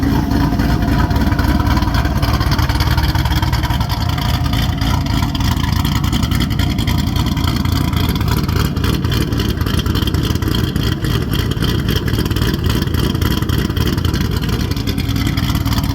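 A pea-yellow Chevrolet Camaro with a bent cam, its transmission out, runs loudly and steadily. The engine churns nearby in a continuous rumble with no pauses or voices.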